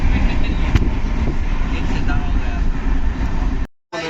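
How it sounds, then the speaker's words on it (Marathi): A train racing along at about 130 km/h at night, a loud, steady rumble and rattle running nearly the whole time before a brief dropout near the end. "आमची ट्रेन पळत आहे 130च्या स्पीडने"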